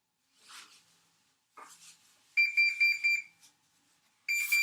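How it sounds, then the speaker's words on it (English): Kitchen timer alarm beeps while bread bakes in the oven, preceded by soft rustling and handling noises, then a close, shrill electronic beeping in rapid pulses that stops briefly and starts again. "Alright, our timer's gone off."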